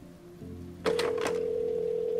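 A telephone in the video game Road 96: low background tones, then a sudden bright ringing or dial tone that starts partway through and holds steadily to the end, loud and close.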